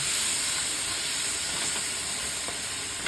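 Water hisses and steams steadily in a hot pan of spiced chicken, a loud, even sizzle close up with no pauses and no voices.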